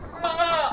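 A young goat from a national-champion line gives a short, wavering bleat, close and clear, lasting under a second.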